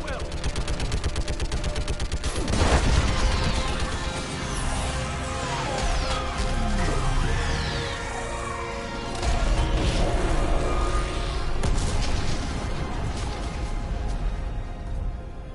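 Dense, sustained gunfire with heavy booms and explosions from an orbital strike in the sci-fi shooter Mass Effect 3, continuous and loud throughout, with voices talking over the battle.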